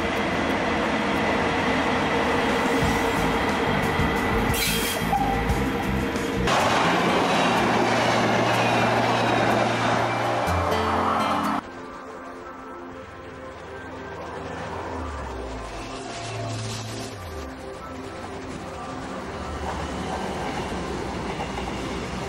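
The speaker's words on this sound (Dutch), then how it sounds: "een mooie compilatie gemaakt van treinen van de Deutsche Bahn uit 2003" Deutsche Bahn trains in North Rhine-Westphalia, 2003: loud passing rail traffic with rumbling wheels and clattering cars, then an abrupt cut to a quieter scene with an engine hum and lower rolling noise.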